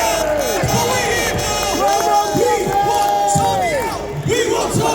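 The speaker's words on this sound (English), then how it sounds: "Come on, big round of applause for Kathy." A live rally crowd cheers, whoops and shouts in loud continuous waves, with chanting voices rising and falling; scattered applause is likely mixed in but not clearly distinct.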